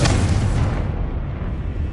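A booming spell explosion from the video game Hogwarts Legacy hits hard at the start, then rumbles low and loud for under two seconds.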